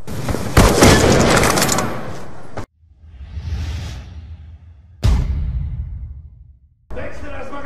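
Explosive charges detonate in Call of Duty Black Ops 2 as loud, close booming blasts with whooshing tails, several bursts cutting off abruptly between quieter rumbling stretches.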